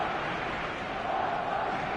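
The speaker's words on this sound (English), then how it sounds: "The crowd are calling for this to be put to bed" Stadium crowd in an eFootball video game, a dense, steady roar of chanting and cheering at a constant level for a couple of seconds.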